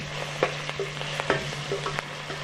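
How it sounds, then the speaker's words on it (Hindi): Chicken pieces fry with garlic in hot oil, giving a steady crackling sizzle with a low hum beneath and occasional clicks and scrapes from stirring in the pan. "ज़रा हम इसको थोड़ी सी फ्राई कर लें।"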